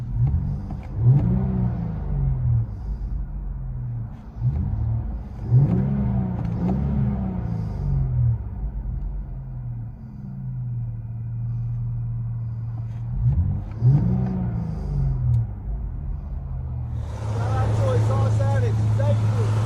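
Heard from inside the cabin, a 2017 Infiniti Q50 3.0L turbo V6 with Borla Pro XS exhaust gives repeated deep revs over a droning idle, ending in a louder sustained rumble, with a voice talking in between.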